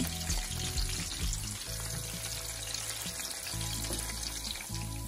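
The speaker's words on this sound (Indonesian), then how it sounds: "Nah ini tumis sampai wangi" Shallots, garlic, tomato and hot chili sizzle steadily in a frying pan, a constant close crackle with occasional stirring scrapes.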